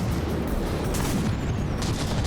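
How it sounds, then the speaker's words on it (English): Battleships trading shell fire in the naval combat game From the Depths, a dense, continuous barrage of booming cannon shots and rumbling impacts with no clear gaps between them. "We got the Haragnor popping in there, really firing those shells here."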